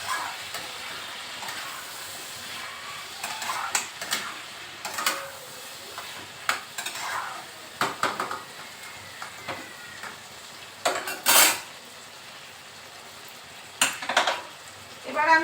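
Cumin, coriander powder and Kashmiri chili masala frying in a pan for kochu-chingri, a soft sizzle with intermittent spatula scrapes and metal clinks, close and fairly quiet, no talking.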